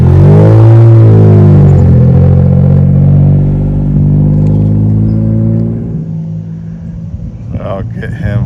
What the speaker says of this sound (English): I'll get him coming up the street here.